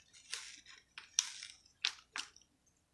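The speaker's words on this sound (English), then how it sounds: "Now I'm gonna whisk" A whisk mixes banana muffin batter with dry ingredients in a bowl, making a handful of short, soft, squelchy scraping strokes in an uneven rhythm. The sound is close but quiet, with no talk.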